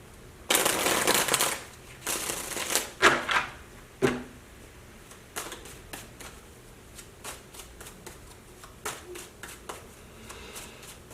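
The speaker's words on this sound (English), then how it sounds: "I'll pull 2 tarot cards before I tell you what I got here." A deck of tarot cards being shuffled and cards pulled by hand, a close flurry of riffling and slapping at first, then scattered softer snaps and slides as single cards are drawn.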